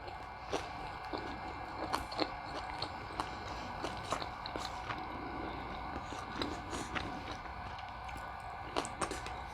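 Crunchy California roll sushi topped with crispy onion bits, chewed close to the mic in a steady string of small crunches and wet bites, with no talking.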